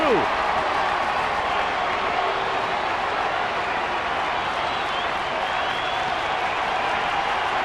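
A large ballpark crowd at a baseball game roars and cheers after a hit into right center field, a dense, sustained wash of distant voices and applause, with no clear commentary over it.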